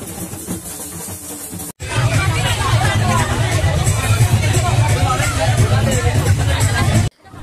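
A dense crowd of boys and girls gathers for the groom's entry at a wedding, a loud steady babble of many voices after a brief quieter opening.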